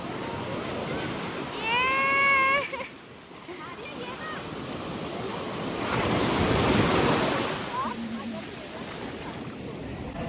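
Big sea waves roll and crash at Devbag beach in Malvan, a loud surging roar with strong wind buffeting the microphone, swelling again toward the end, with a few faint whistle-like sounds early on.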